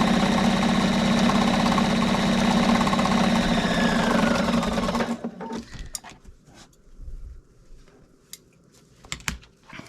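Sewing machine running a decorative serpentine stitch, a steady fast mechanical whir and patter for about five seconds before stopping, followed by faint scattered taps and handling noise.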